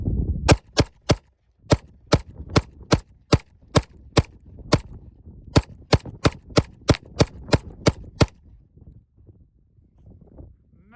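A 2011 Springfield Prodigy double-stack pistol fires about twenty sharp, loud shots in quick, fairly even strings with brief pauses between them, followed by quiet rustling at the end.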